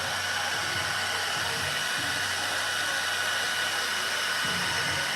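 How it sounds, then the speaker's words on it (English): A hair dryer blows steadily and loudly during a fade haircut, a constant close whoosh that fills the whole stretch with no pauses. "So what you do sometimes you get like the blow dry."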